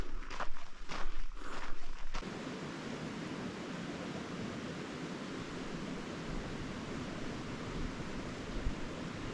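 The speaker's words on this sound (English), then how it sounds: "The creek is on my left." A nearby creek flows in a continuous broadband rush of water, steady and fairly loud, with some rustling footsteps at the start.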